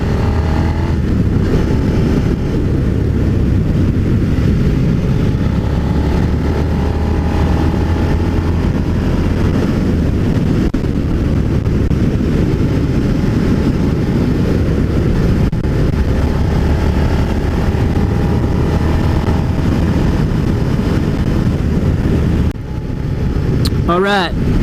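A Suzuki SV650 motorcycle on an evening ride gives a steady, close engine drone blended with heavy wind rush, holding level for the whole stretch before easing off briefly near the end.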